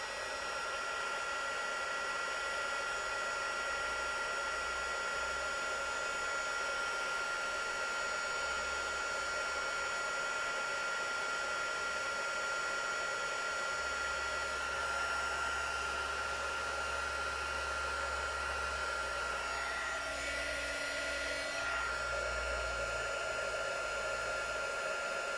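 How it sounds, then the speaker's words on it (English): A heat tool melting embossing powder on a card blows with a loud, constant airy whoosh close by for the whole stretch, steady and alone with no talk. "I need to find a better setup for my heat tool."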